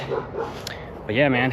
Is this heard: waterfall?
no